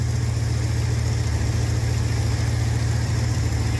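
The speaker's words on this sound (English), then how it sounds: "she's idling nice and steady" An old classic car's worn Ford FE V8 idles steadily, a continuous low, even engine rumble running close and unbroken with no revving.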